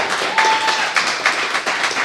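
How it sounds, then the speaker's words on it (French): Live studio audience applauding, a brief steady wash of many hands clapping at close range, with faint voices over it. "applaudissez-le un peu."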